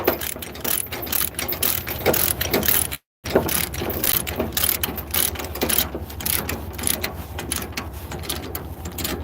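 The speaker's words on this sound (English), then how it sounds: "Hold the chain as tight as I can. And ratchet away." A ratchet chain binder is cranked to tighten a chain, giving a steady, loud run of rapid metallic clicks up close with one brief pause partway through.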